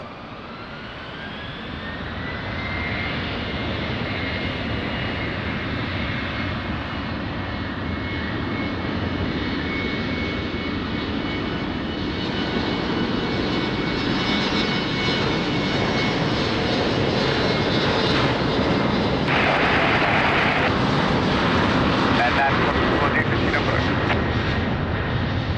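An airliner takes off from runway 20 at Lisbon Airport, its jet engine roar building steadily from a near, loud start and staying broad and sustained throughout, with radio voices over it.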